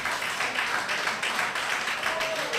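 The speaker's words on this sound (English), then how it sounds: "Let's have you standing and clap for Mr. Cherno Omar." A crowd at a World Theatre Day event rises and applauds, producing a dense, even patter of many hands clapping at moderate distance, with a faint voice underneath.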